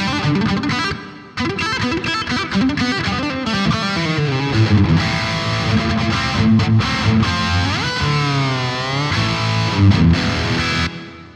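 Electric guitar through a Boss ME-90 multi-effects pedal with spring reverb, a steady distorted phrase of chords and bends played continuously for about eleven seconds with a wash of reverb and a brief gap near the start.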